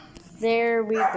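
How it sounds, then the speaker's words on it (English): A dog barks in a short, loud, close yelp indoors, following a brief spoken phrase. "Sorry about my dogs barking"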